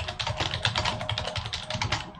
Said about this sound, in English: I know y'all can hear the keyboard pretty loudly.